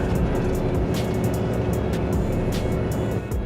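A Volvo hooklift truck labours up a steep hill in eighth gear, its engine a loud, steady, strained drone that never lets up.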